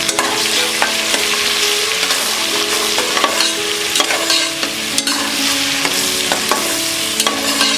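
Chopped onions with curry leaves frying in oil over a medium flame for masala rice, a steady close sizzle with repeated stirring and spoon scrapes against the pan.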